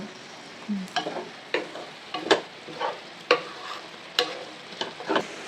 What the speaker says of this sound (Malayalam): അപ്പം നന്നായിട്ട് ഇളക്കി കൊടുക്കുക.